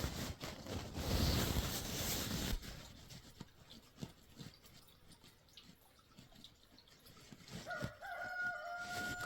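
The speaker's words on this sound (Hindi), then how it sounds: "मुर्गा बोलना शुरू हो गया" A rooster crows at dawn in an Uttarakhand village. The crow comes near the end of the clip, after a stretch of noisy, splashing sound like running water.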